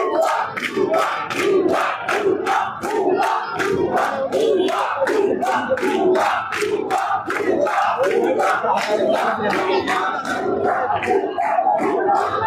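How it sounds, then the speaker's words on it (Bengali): Students chant slogans in a loud, rhythmic crowd at a quota-reform protest at Shahbag, the repeated shouted phrase pulsing steadily and densely throughout with no pauses. "ভুয়া ভুয়া বলে কিন্তু স্লোগান দিচ্ছে শিক্ষার্থীরা"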